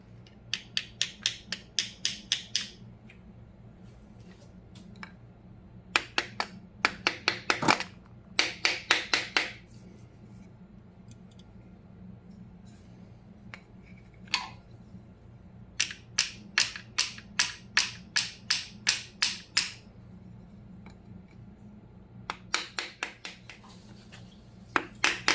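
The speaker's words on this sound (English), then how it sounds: "this is where you're going to have to tap it to get it in." A cork lower seal being tapped into place on a Graham 217.8 part, heard as bursts of sharp, close taps in quick runs with pauses between, over a low steady hum.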